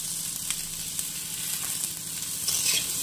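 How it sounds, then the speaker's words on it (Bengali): Vegetables for shukto sizzle and fry in a pan while being stirred, a steady close hiss with occasional scraping stir sounds and no talk. "সবজিটাকে দিয়ে 2 থেকে 3 মিনিট ধরে এইভাবে একটু নেড়ে চেড়ে ভালো করে ভেজে নেব"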